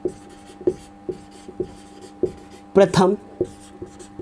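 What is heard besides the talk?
writing on a board during a physics lesson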